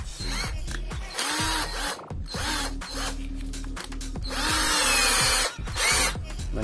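A cheap cordless drill with a bit fitted bores into plywood, its motor whining loudly and steadily as the speed is raised, with brief stops and restarts and a couple of rising spin-ups.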